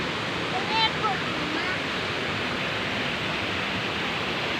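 Waterfall at Bega Falls in Agusan del Sur, a steady broadband roar of falling water that fills the whole clip at even loudness, with faint voices briefly audible early on.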